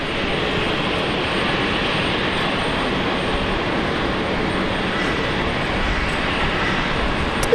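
Emirates jet airliner at Brisbane Airport, a loud continuous engine roar, broad and steady throughout with no talk.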